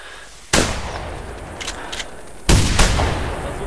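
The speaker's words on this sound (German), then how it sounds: "Lass uns einfach schießen." Two loud gunshots fire about two seconds apart during goose hunting in the video game theHunter, each one a sharp crack, with faint clicks in between.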